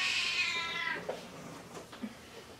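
A pet cat lets out one long, loud yowling meow indoors, close by, followed by a few quieter short cat noises.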